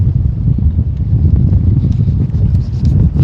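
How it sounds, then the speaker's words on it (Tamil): Strong wind at sea buffets a fishing boat, a loud, steady rumbling roar like wind blasting the microphone, with no voices. "மழை வர பாக்குது, வீசி அடிக்குது காத்து"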